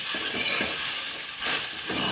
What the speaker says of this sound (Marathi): पण इथे आता व्हिडिओ असल्यामुळे मी हलवत आहे, मिक्स करत आहे